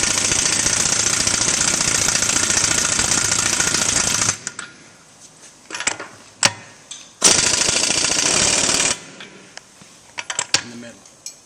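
Impact wrench bursts loosening the nuts on a two-piece Rockwell 20-inch bead lock rim in a diesel shop, a long loud rattling run, then short bursts and a second long run, with brief quiet gaps between.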